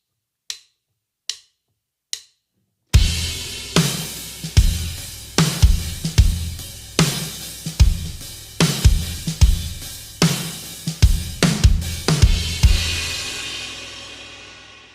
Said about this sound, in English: Second part of the intro, you're full in, sloshy hats, kick and snare.